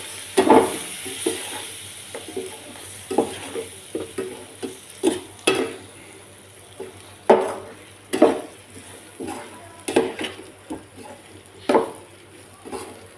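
Chicken fry with masala and lemon juice being stirred in a hot pan, a steady sizzle broken by repeated scraping strokes of the spoon against the metal, close up with no voice.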